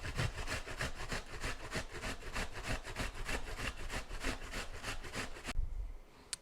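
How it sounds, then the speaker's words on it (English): Onion grated by hand straight into a mixing bowl, a close, steady rasping scrape repeated in quick even strokes for several seconds before stopping. "I'm going to just grate right into the bowl"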